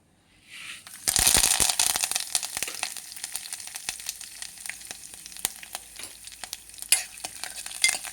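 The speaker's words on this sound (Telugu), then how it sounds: "ఇప్పుడు పోపు దినుసులు వేసుకోవాలి" Tempering spices dropped into hot oil while cooking a taro (arvi) pulusu, bursting into loud crackling sizzle after a second, then settling into steady frying with sharp pops.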